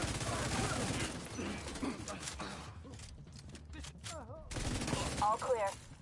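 Rapid gunfire bursts from a hardcore-mode firefight in Tom Clancy's The Division 2, dense crackling shots through the first half, then sparser shots as voices talk over the action.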